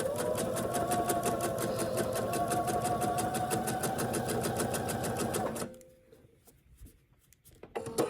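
A sewing machine stitches diamond-pieced quilt sashing strips with a fast, even, close mechanical chatter that runs for several seconds, then stops abruptly, leaving quiet handling noises.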